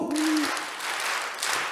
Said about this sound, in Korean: 자, 월드컵 박수 준비!